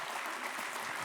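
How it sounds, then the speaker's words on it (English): An audience at a Midwest energy summit claps together in a brief, dense burst of even, sustained applause. "Please give Rich a round of applause."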